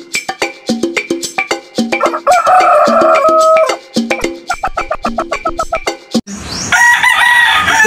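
A Black Kelso stag rooster crowing near and loud, several crows with clucking in between, a second bird crowing at the end.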